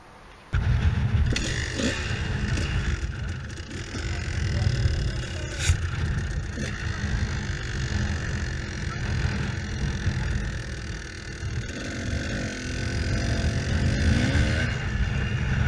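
Dirt bike ridden around an enduro cross track, a loud continuous engine drone that rises and falls with throttle, close up, with brief scraping and rattling bumps along the way.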